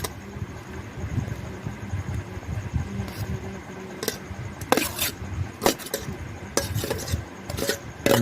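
Leftover rice dosa batter is mixed with finely chopped big onion in a bowl, giving quiet wet scraping and rubbing strokes in an uneven rhythm, with no talk.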